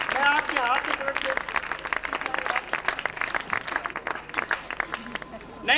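An audience claps steadily through a school foundation-day event while someone speaks over the applause through a public address system.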